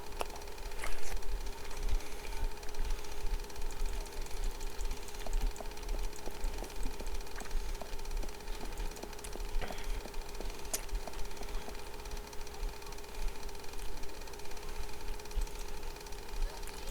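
An engine runs steadily with a constant, buzzing mechanical drone and a fast, rattling knock that never lets up, heard near and fairly loud.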